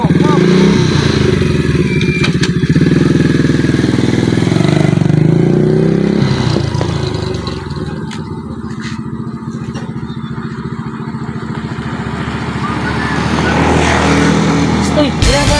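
A motorcycle engine runs close by with a steady throaty drone that dips and rises again as it idles and revs, with people talking nearby.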